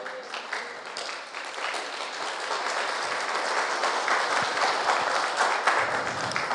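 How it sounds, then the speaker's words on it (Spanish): A church congregation applauding the Lord during a Spanish-language service, steady dense clapping from many hands that holds and slowly swells over several seconds, no voices on top. "Dele ese aplauso al Señor."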